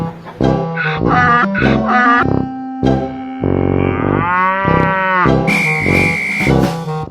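A cow moos loudly and close by, with several drawn-out, tonal calls in a row and short pauses between them, heard alone without talk.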